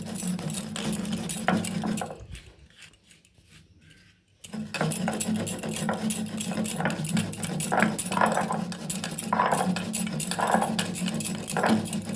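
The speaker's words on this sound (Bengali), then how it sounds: "ওটা শিলের মধ্যে দিয়ে ওটাকে আমি গুঁড়ো করে নেবো।" Fried panch phoron spices ground on a stone slab for Bengali shukto: continuous close gritty rubbing and scraping, broken by a short quieter pause, then resuming steadily.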